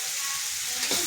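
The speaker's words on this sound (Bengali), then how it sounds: "পেঁয়াজটা দিয়ে সুন্দর করে লালচে করে ভেজে নিতে হবে।" Onions frying in a pan, a close, steady hiss of sizzling oil with a brief stirring scrape near the end.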